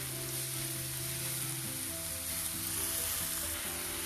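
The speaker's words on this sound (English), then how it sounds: "First, let's add onions. Saute this for a few seconds." Chopped onions sauteing in a hot pan for masala idli give a steady, close, continuous sizzle with a faint crackle throughout.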